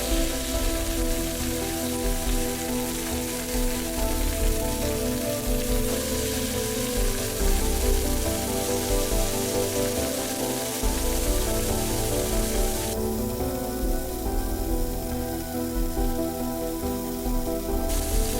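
Meat seasoned with rock salt and ground black pepper searing in hot oil in a pan, a loud, steady dense sizzle and crackle that continues without a break, with no voices.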